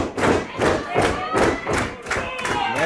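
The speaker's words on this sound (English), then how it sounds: "North Pro faithful banging their hearts out in support of the Durnings" A wrestling crowd at a Canadian independent show in a ballroom bangs rhythmically in support, loud regular thumps roughly every half second over a reverberant crowd roar.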